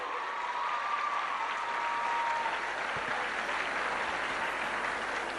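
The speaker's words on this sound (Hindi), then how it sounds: "बड़ी अच्छी तालियां बजा रहे हो" Steady, dense applause from a group of schoolchildren clapping together, loud and sustained throughout with a faint tone drifting briefly in the background.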